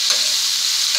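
Vegetables frying for masala pasta, a brief bright hiss of hot oil with a faint stir at the start, steady and close, no voices.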